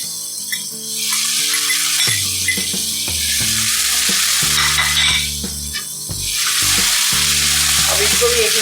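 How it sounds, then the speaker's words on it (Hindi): Finely chopped carrots frying in a pan for pasta, a loud, close sizzle with sustained tonal hum from a nearby appliance and a few clinks, no speech. "अब इसको भी 1 मिनट तक फ्राई करेंगे।"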